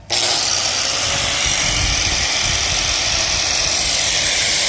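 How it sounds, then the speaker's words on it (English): An angle grinder powered by a Growatt Infinity 1500 power station starts up and runs continuously with a loud, steady high-pitched whine and rough hiss, close by and with no talk over it. "So right now it's running the angle grinder"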